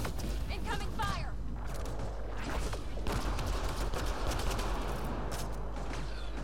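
Gunfire in the Mass Effect Andromeda multiplayer Ice map: a dense run of sharp shots and bursts under a low constant rumble, with brief voice-like tones early on.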